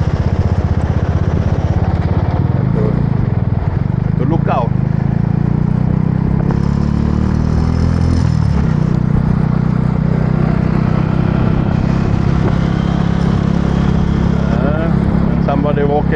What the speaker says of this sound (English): I built this motorbike alone.